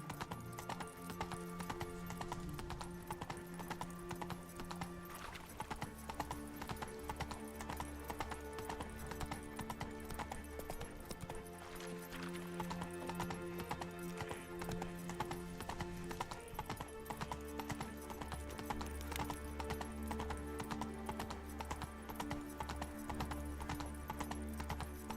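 Hooves clip-clop at a steady gallop in The Witcher 3: Wild Hunt, a continuous rhythmic beat under game music, with a horse whinny breaking through near the start.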